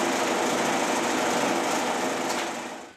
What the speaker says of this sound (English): now I'm going to take a large number or many successive cuts